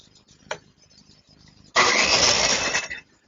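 A power saw trims a wooden flagpole to length: after a quiet stretch with a small knock, a loud, harsh, close cutting roar runs for just over a second and then cuts off.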